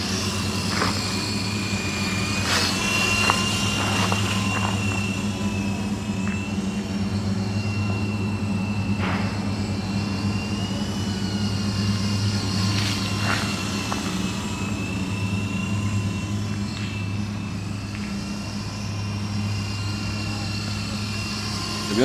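A small helicopter, likely a radio-controlled model, flying and picking up speed, giving a continuous low rotor drone with a steady whine above it and occasional brief clicks, while someone talks over it.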